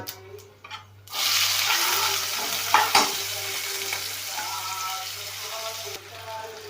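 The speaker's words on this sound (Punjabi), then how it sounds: "ਜਦੋਂ ਤੇਲ ਗਰਮ ਹੋ ਗਿਆ ਇਹਦੇ 'ਚ ਜਾਊਗਾ ਜੀਰਾ ਠੀਕ ਹੈ ਜੀ ਇੱਕ ਚਮਚ ਇਹਨੂੰ ਹਲਕਾ ਜਿਹਾ ਤੜਕਾਉਂਗੇ ਆਪਾਂ" Cumin seeds dropped into hot mustard oil for dhaba-style paneer bhurji, a sudden loud sizzle that settles into a steady frying hiss with a few stirring clinks.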